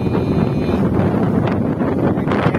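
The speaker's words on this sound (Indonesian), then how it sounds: "Anginnya sangat kencang sekali." Strong, steady wind roars across the open water of Jatiluhur reservoir, buffeting the microphone with constant broadband rumble and gusty surges throughout, no voices present.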